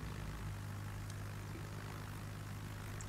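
Carrier aircraft fly in the naval video game World of Warships, giving a steady propeller drone that holds at an even, moderate level throughout.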